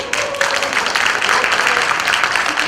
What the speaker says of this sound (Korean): 이쯤에서 박수 한번 주세요